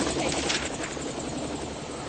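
Helicopter rotor and engine noise for a treasure hunt in North Yorkshire, a loud, steady, close whirring drone with no voices over it.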